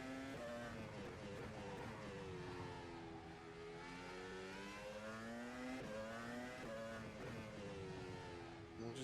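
A fictional F1 race car built by Studio 397 in the rFactor 2 racing game, running at Zandvoort, screams steadily with a high rising-and-falling engine whine through gear changes, loud and close.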